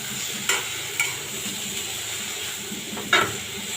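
Potatoes with tomato frying in a pan, a soft steady sizzle with a few sharp scrapes and knocks of a spoon stirring, one near 3 seconds louder than the rest.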